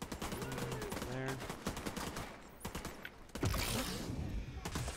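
Gunfire in The Division 2 comes in bursts of sharp rapid shots with mechanical clatter and a heavier blast near the end, loud and close, mixed with game effects.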